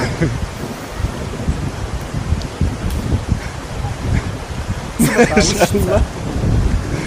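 Rumbling thunder rolls under steady rain, with a brief burst of voices or noise near the end.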